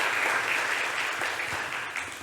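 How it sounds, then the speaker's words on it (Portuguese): A church congregation claps together in loud, dense, sustained applause that continues steadily for the whole stretch and eases slightly near the end. "dê uma salva de palmas para o Senhor, bem forte, bem bonita"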